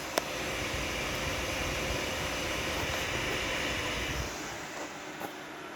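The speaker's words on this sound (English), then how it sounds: "You hear that fan?" A loud, steady whooshing roar of a computer fan running continuously, broadband and unbroken, with a faint click or two.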